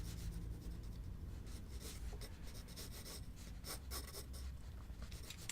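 Pencil sketching a quick portrait in a sketchbook, faint close scratching and rubbing strokes of graphite on paper in short irregular bursts, quiet and steady with no talk.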